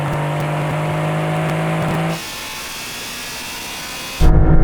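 Engine roar from a Porsche 911 and a Shelby GT350 Mustang in a drag race, a loud steady drone with a low engine tone that cuts off abruptly, a quieter stretch, then a sudden loud burst of engine noise near the end.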